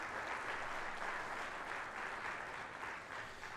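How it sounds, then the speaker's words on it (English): Audience at a swimming coaches' meeting applauds the organizers, a steady, dense wash of clapping that holds at even loudness throughout with no voices over it. "give them a round of applause for that"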